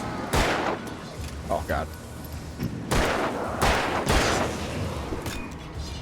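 A shotgun fires in the video game Alan Wake, several loud, booming blasts spaced a second or more apart amid ongoing game noise, while a person talks briefly in between.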